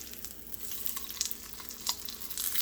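A flipped egg fries in a pan with a soft, continuous sizzle and faint crackling pops scattered throughout. It sounds fairly quiet and close, with no voices.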